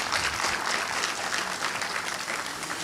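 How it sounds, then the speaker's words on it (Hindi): People in Bahraich, Uttar Pradesh, at a district event clap enthusiastically together, producing a continuous, even roar of applause at moderate distance, with no speech over it. "एक बात के लिए मैं चाहूँगी ज़रा बहराइच के लोग एक बार ज़ोरदार तालियां बजाएं"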